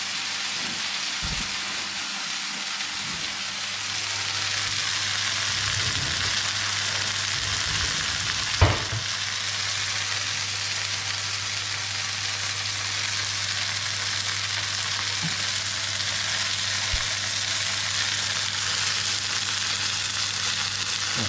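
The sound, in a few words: potato and ricotta gnocchi sizzling in a frying pan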